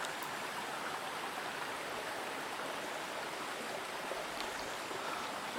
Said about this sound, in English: There's definitely another creek or something down there that's just flowing the whole way.